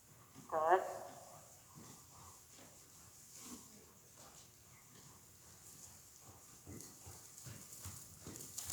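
Horse cantering in an arena, with soft rhythmic hoof beats running under intermittent spoken coaching from a trainer; a brief louder voice burst near the start, and hoof thuds stay faint and distant throughout.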